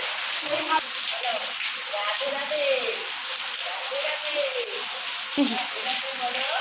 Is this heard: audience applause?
no